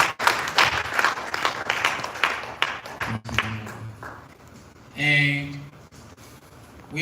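Scattered clapping for an honorable guest at a Pan African Centre for Climate Policy event, uneven hand claps over several seconds, then a pause, a brief tonal sound and a return of noise.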